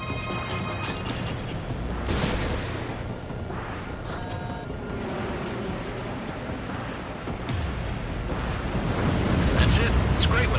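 An enemy bomber is shot down and explodes in the combat flight game Ace Combat 7, with the F-16C's jet roar blending into a long, loud rumbling blast. Radio voices talk over it.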